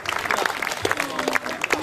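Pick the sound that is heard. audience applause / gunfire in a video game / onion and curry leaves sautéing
audience applause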